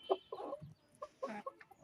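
Brown desi hens clucking as they feed, a few short close bursts of soft clucks with brief pauses between them.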